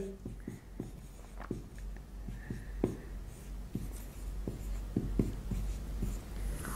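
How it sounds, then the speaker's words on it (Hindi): Writing by hand during a maths lesson on fractions: a quick run of crisp, close tapping and scratching strokes in an irregular rhythm, with almost no talking over it. "इधर लिख देते हैं सबसे बड़ी"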